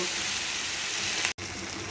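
Taro stolons frying in a pan, a loud, dense, continuous sizzle close by that runs steadily for two seconds, with one brief dropout near the end.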